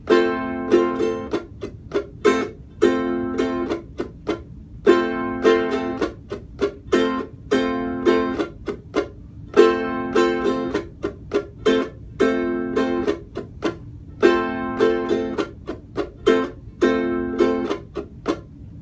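Ukulele strummed in a steady repeating pattern, each bar ending on a short, abruptly choked chord, played alone and close.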